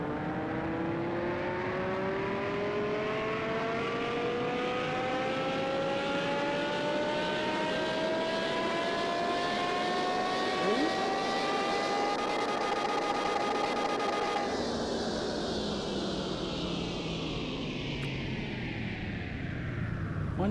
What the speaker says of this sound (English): Certainly a different sound of the engine.